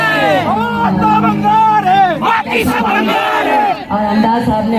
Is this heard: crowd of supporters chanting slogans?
yes